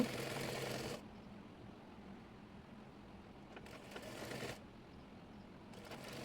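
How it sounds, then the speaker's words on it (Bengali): A sewing machine stitches a folded sleeve hem on a semiz (women's shirt), running in a steady mechanical whir for about a second, then pausing and resuming in two shorter bursts, close and moderately loud. "এরপর হাতাটি মুড়িয়ে সেলাই করে নেব।"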